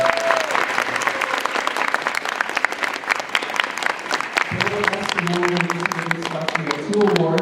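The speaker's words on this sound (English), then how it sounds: "Can we give them more round of applause as well?" Audience applause at a Sustainathon 2023 event, sustained clapping throughout from a large crowd, with a voice talking over it in the second half.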